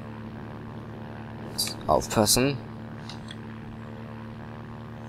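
A propeller airplane engine in BeamNG Drive drones at a steady, moderate level, a constant low hum that continues under a brief spoken warning partway through.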